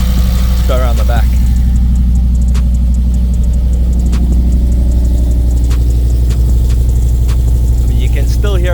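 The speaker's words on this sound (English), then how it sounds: "You can still hear it's on the cold idle." A turbocharged XR5x4 car engine runs at cold idle, a loud close steady rumble with a constant low drone and brief ticks and chatter on top.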